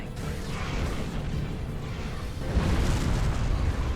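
Defense turrets fire at swarmers during a space battle in the Star Trek Online video game, heard as a dense, continuous rumbling roar of booms and blasts that swells slightly louder halfway through.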